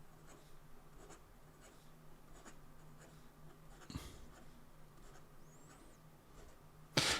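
Esterbrook Niblet fountain pen writing fast on paper, a soft, close scratchy scribble of quick strokes with faint rhythmic taps, then a sharper knock near the end.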